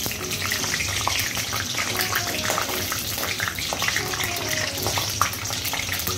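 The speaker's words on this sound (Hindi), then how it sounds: "इसमें मैं तेज़पान, बड़ी इलायची, हरी इलायची, लौंग, दालचीनी, करण फूल और काली मिर्च डाल रही हूँ। इनको मैं अच्छी तरह से फ्राई हो जाने दूँगी।" Whole spices such as bay leaf, black and green cardamom, cloves, cinnamon, stone flower and black peppercorns frying in hot oil for mutton curry, giving a steady, dense sizzle with light crackles throughout, close and continuous.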